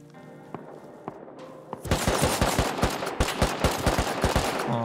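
Rapid gunfire in the survival video game Rust: sparse single shots first, then a loud, dense burst of automatic fire with sharp, evenly spaced reports running to the end.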